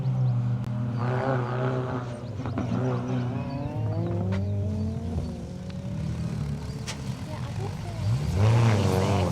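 A Vauxhall Nova rally car drives through a stage at the Rali Menai Stages, its engine revving and changing pitch as it accelerates past, with a commentator talking over it.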